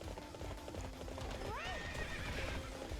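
Horse hooves clip-clopping at a gallop with a rising, drawn-out neigh partway through, from a mounted horse in the video game Hyrule Warriors, set against busy battle ambience and a faint tonal background.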